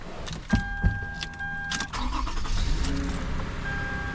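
A Lexus RX350 engine cranks and catches after an oil change, a short starter burst followed by a steady idle hum in a garage, with a thin high whine from the running engine; no talk.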